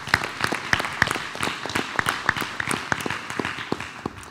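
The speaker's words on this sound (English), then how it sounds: "let's give another round of applause to these men" Sparse applause at a school board meeting honors a group of men, a few separate claps and scattered patters from a small audience, fairly quiet and irregular.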